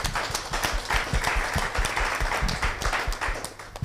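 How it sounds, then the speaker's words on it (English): An audience at a panel discussion on journalists and activists working toward gender equality breaks into steady, close applause that lasts throughout with dense clapping. "I think he deserves a round of applause."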